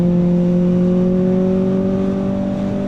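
A Kawasaki ZX4RR motorcycle fitted with an AT2 slip-on exhaust hums steadily while riding, a loud, even engine drone that holds one pitch throughout with no talk over it.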